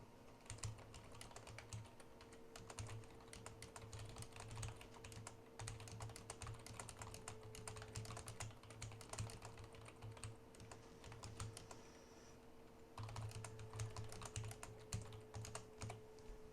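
Steady, quick keystrokes on a computer keyboard as someone types a short social-media summary, a close, quiet clatter with a brief lull near the end before typing resumes.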